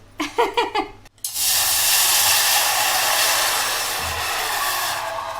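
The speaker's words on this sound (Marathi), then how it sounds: "चहाच्या पातेल्यात गेलं पाणी, पाण्या गेली उकळी" Water coming to a boil in a tea pot, heard as a steady loud hissing roar that rises and holds after a few brief clattering knocks at the start.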